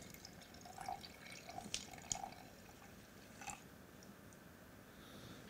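Coolant tipped slowly into the reservoir of a watercooled PC loop during a flush, heard as faint, close trickling and dripping with a few small splashes over quiet background, no talking.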